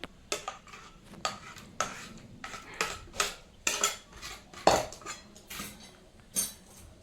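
Chatpata egg curry gravy is served onto a plate with a string of close metallic clinks and scrapes of a spoon against dishes, irregular and sharp, with quiet pauses between and no talking.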